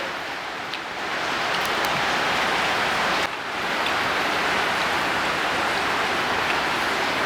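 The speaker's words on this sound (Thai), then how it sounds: "โดนฝนกระทบ" Steady rain beating on a surface, a dense even hiss that stays loud and constant, with a brief dip partway through and no voices.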